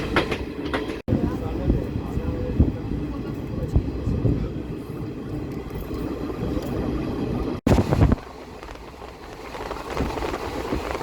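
Steady rumble and rattle heard from inside the Black Diamond Express passenger train, Howrah to Maithon route, running continuously with a brief dropout near the start and a short break later; no talk.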